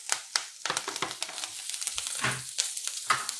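Green chilies and curry leaves crackle and spit in hot oil for a poha tempering, a close run of sharp irregular pops and sizzles with no talking.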